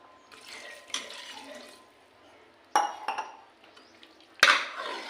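A spoon stirs a spicy boti mutton curry in a pot after tamarind water and two glasses of water go in, giving intermittent close clinks and scrapes against the metal with quieter wet sloshing between them and no talk.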